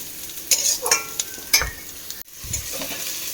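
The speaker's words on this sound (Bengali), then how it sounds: "সব দিয়ে নিয়েছি টমেটো লবণ হলুদ কাঁচা লঙ্কাও দিয়ে দিলাম এখন এটাকে বেশ সুন্দর করে ফ্রাই করব" Potato curry with tomato, salt, turmeric and green chili sizzles in a pan while a spoon stirs and scrapes it in quick, uneven strokes, with a brief pause partway through.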